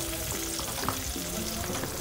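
Garlic and onion sauté in melted margarine in a pan, giving a quiet continuous crackling sizzle with a faint stir, close and steady throughout.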